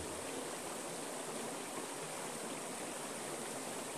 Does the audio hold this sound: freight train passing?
no